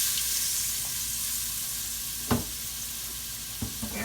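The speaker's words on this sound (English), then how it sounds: "we could throw our onions in here" Onions frying in a pot left with browned beef-tip drippings, a steady close sizzle with a couple of sharp clanks from stirring, no talk.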